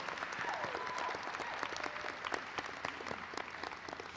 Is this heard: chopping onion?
no